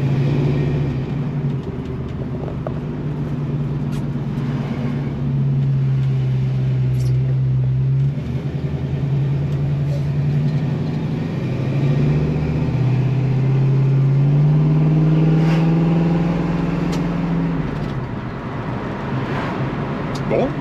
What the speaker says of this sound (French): Alors on entend un petit peu les échappements.